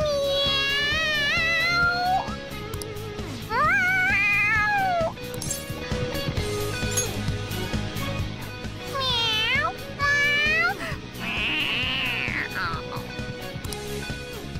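A cat meows excitedly in the Persona 5 Royal video game, giving a string of rising, drawn-out meows and yowls, loud and close, with some game music and sound beneath.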